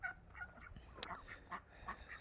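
Heavy white turkeys in a farmyard give faint, scattered gobbling and clucking calls at irregular intervals over a low background hum, with no one talking.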